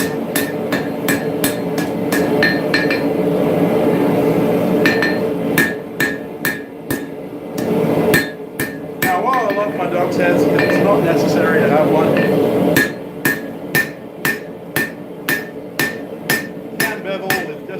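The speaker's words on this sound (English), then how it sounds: "bevel with just a rounding hammer that I have." A rounding hammer strikes a railroad spike axe on an anvil, sharp ringing clanks in quick rhythmic bursts separated by pauses, loud and close, with someone talking quietly in between.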